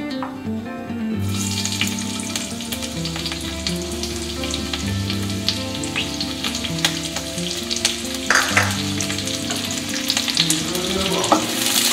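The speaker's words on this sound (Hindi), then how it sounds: "तेल गरम हे गेलानी तबे से प्याज आ कंचा लंका पकेबा" Sliced onion and green chillies fry in hot oil in a kitchen pan, giving a loud, continuous sizzle close up. Scattered scraping and stirring clicks sound over a steady low hum.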